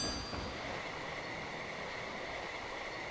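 Train rolling on rails in the A-Train simulation game, a steady mechanical rumble with a faint sustained whine, continuous and moderately distant with no talking.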